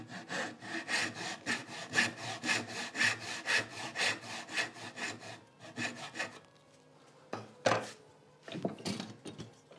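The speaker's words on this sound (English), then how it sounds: "Take a small saw. Just a dovetail saw will work." A small dovetail saw cuts into wood with steady rhythmic strokes, each stroke a rasping pulse, close and fairly loud, then it pauses before a few scattered scrapes and knocks follow.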